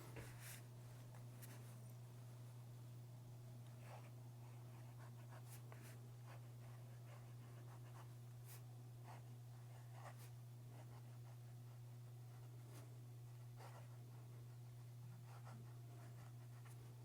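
Fountain pen with a stub nib scratching across a blank paper page, soft intermittent strokes close up under a steady low hum.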